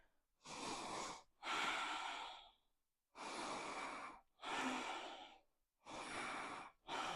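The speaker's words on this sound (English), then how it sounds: "Take 5 breaths here." Deep, slow breaths during a yoga side plank: five long, close, airy inhales and exhales in an even rhythm, each separated by a brief pause of silence.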